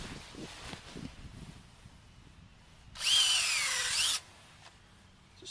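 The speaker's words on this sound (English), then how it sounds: "we just tap the trees with a power drill" A power drill bores a tap hole into an ash tree outdoors, a single loud whining burst of about a second with rising pitch, set against faint wind and quiet background rustle.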